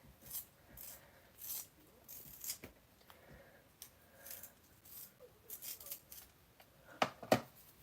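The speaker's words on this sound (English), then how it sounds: "And I got a little sharpener, and I'm going to sharpen it over here." A pencil is sharpened in a small handheld sharpener, giving soft intermittent scraping and rasping strokes in short bursts. The last strokes come closer and sharper, and the whole sequence stays quiet, close and without talk.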